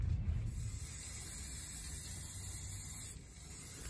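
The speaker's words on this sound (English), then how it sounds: "I sort of tried to spray stuff on the rubber" Antifouling paint is sprayed from a can onto a boat's rubber, a steady close hiss running for about three seconds before cutting off abruptly.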